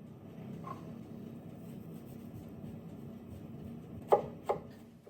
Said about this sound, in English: I peel shallot. I want to chop it as finely as possible.